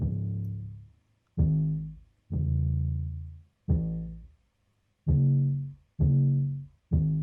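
Deep, booming 808 bass hits play in an uneven pattern, each note sustaining and sliding before cutting off, loud and alone.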